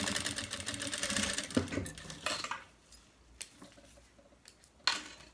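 A sewing machine runs briefly along a zipper on a small bag, its fast whir dying away early, followed by quiet clicks and light clinks of handling.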